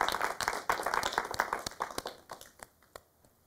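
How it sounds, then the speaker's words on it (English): A small group at an astronomy society general meeting applauds in a loose patter of hand claps that thins out to a few scattered claps and fades after about three seconds. "give a round of applause to everyone in the results"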